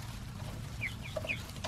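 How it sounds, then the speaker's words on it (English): A rooster in a backyard chicken coop gives a few short, high clucking calls near the end, fairly faint and close over a steady low outdoor hum. "And here comes the rooster."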